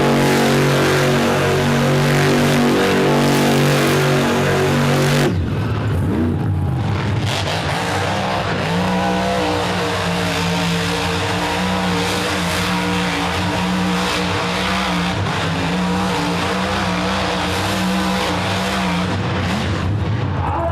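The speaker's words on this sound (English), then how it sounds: "we had a little donut throwdown with Bigfoot versus Tailgator" Monster trucks Bigfoot and Tailgator spin donuts at an arena bash in Charlotte, North Carolina, their huge engines roaring loud and steady with revving surges, tires scrubbing, and a big engine note shift partway through.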